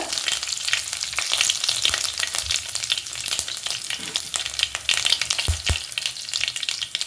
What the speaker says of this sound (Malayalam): കടുക് നന്നായിട്ട് പൊട്ടി വന്നിട്ടുണ്ട്